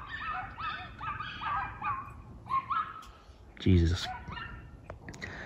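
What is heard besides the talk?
dogs barking loudly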